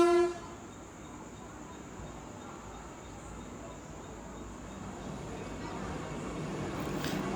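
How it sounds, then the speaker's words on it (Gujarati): A Vande Bharat train arrives at a station between Rajkot and Ahmedabad, a steady broadband rumble of rolling cars holding at moderate level throughout, with a brief horn-like tone at the start. "અત્યારે તમે ન જોઈ હોય તો વંદે ભારત ટ્રેન આવી ગઈ છે અમારે ત્યાં"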